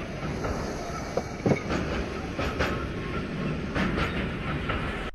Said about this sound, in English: a train manifests and you can ride it to base